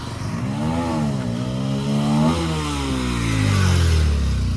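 A motorcycle engine revs loudly and close by during a wheelie, its pitch climbing and dipping in sweeps before rising again into a sustained high roar.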